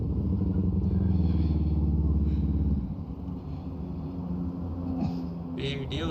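A motorcycle engine revs hard up close on a city street in Belo Horizonte during a municipal guard stop, a loud throbbing drone that drops to a lower idle midway, with brief clatter near the end.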